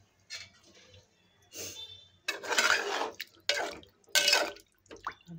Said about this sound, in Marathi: 2 मिनिटं परतून झाल्यानंतर त्याच्यात 1 ग्लासभर पाणी टाकून घ्यायचं।